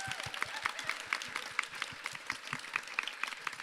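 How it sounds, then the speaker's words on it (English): An audience at a climate activism event panel gives a round of applause, a quiet, steady patter of many hands clapping close together with no voices over it. "Can we give them a round of applause for all the advice?"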